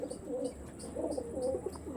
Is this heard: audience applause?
no